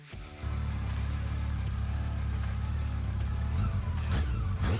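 A Yamaha FJR 1300 touring motorcycle engine starts low, then holds a strong, steady drone that builds toward rising revs near the end, sounding close and loud with no talking.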